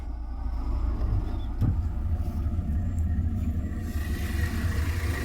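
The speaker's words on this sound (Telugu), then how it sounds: "ఇంజన్ సౌండ్ చూసుకుంటే మాత్రం ఎట్లా ఉంది సార్" A 2019 Hyundai Creta 1.4 S diesel engine idles with a low, steady rumble heard up close, continuous and even, with no talking.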